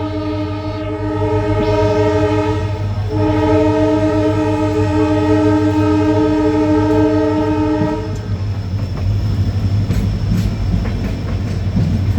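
A passenger train departing Thiruthuraipoondi Junction sounds a long, loud, steady horn for several seconds over the low rumble of its engine, then rolls on with rattling wheels.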